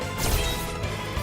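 A punch landing on an enemy in Bravely Default II, a dense crashing impact with a whooshing swell that stays loud and heavy through the moment.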